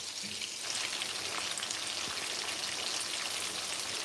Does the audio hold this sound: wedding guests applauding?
no